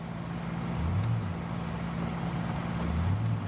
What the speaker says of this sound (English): Yeah, truck running like a dog,